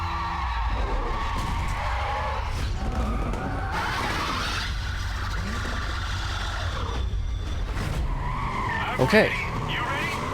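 A muscle car in Need for Speed Carbon launches hard with nitrous, tires squealing and skidding under a rising engine roar as it overtakes, while someone talks over the racing noise.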